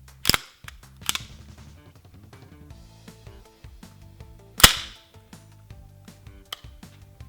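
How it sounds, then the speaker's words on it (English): M7 rifle being cleared, with a few sharp metallic clacks from bolt and action handling, close and fairly quiet, spaced apart among faint small mechanical clicks. "the first thing we're going to do is make sure that the rifle is clear"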